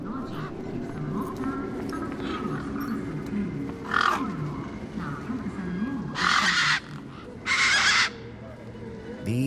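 Tough, vicious desert birds in the video game Beyond a Steel Sky give harsh, roaring squawks over a low ambient bed, with two loud screeching bursts close together near the end.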